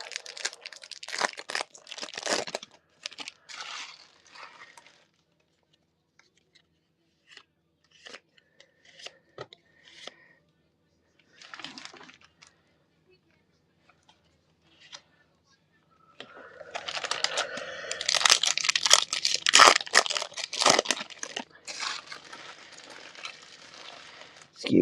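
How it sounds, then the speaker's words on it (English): Trading card booster packs being torn open and handled, with crinkly foil rustling in bursts, quiet gaps between them and a long dense stretch of crackling near the end, all close by. "Excuse the rustling noise."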